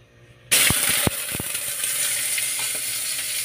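Onions hitting hot cooking oil in a home kitchen set off a sudden loud sizzle that holds steady and bright, with a few sharp clinks of a utensil against the pan early on.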